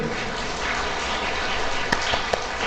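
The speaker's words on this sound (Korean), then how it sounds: "자, 이분들 박수 쳐주세요." Audience applause in a church hall during a Holy Spirit seminar lecture at a Korean Catholic church in Vancouver, a dense steady patter of many hands throughout, with a couple of sharper claps standing out near the end.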